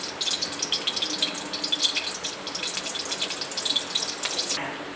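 Onions fry in a pan, giving a steady crackling sizzle with bursts of bright spattering. The sound runs continuously for several seconds and eases off near the end.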